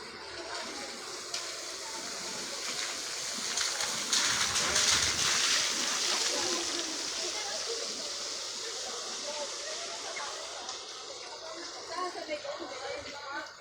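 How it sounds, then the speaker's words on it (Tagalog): Rainwater rushes through a street drainage channel after heavy rain, a steady, fairly close wash of flowing water with a louder surge midway, while someone talks over it. "Dito yung daanan ng tubig."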